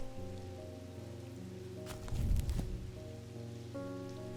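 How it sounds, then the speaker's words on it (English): Rain falls steadily on a rainy day, a soft continuous patter with a brief louder burst of drops or splashes in the middle, sitting under a low sustained hum. "you can hear the rain. It's a rainy day today."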